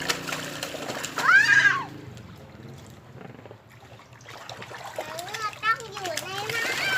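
A small child floats in water, making light splashes and trickles. Children's voices squeal and chatter over the water noise throughout.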